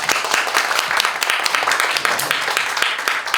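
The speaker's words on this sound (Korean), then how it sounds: "여러분 박수 한번 보내주세요" At an autumn evening book-reading event, the audience gives a round of applause, with crisp individual claps standing out from a lively, fairly loud clapping bed.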